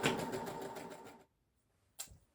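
A sewing machine running a short practice stitch on denim jeans, a steady fast mechanical whirring for about a second, then silence and a brief clunk.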